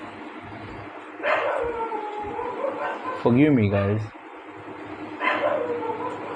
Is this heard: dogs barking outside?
yes